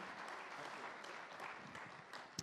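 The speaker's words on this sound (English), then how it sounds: "they're worth a round of applause." Faint applause from a crowd, a steady patter of clapping hands heard at a distance without voices.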